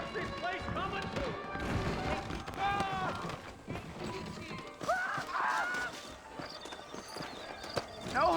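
Horse hooves clip-clop at a brisk running pace in the video game Red Dead Redemption Remastered, a steady stream of close hoofbeats with character voices talking over it and a brief neigh.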